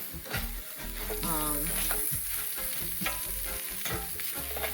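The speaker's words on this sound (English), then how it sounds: "I'm going to let this saute until it's tender to my liking" Vegetables sauté in a pan for a plant-based vegan dinner, with steady sizzling and frying under repeated scraping and stirring strokes from a utensil. The sound is close and moderately quiet, with no voices.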